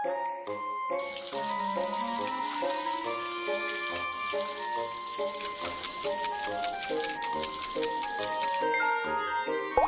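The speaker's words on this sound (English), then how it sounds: "Rinse with clean water to cool the wound." Water runs steadily from a tap to rinse a scalded arm in a kids' rescue cartoon, a continuous splashing flow lasting throughout under a light musical background with no talking.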